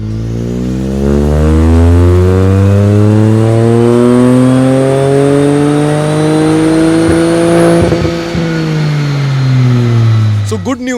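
A Stage 3 tuned Hyundai N Line car revs up on a dyno, its engine note climbing steadily in pitch over many seconds in one long, loud pull before abruptly cutting off.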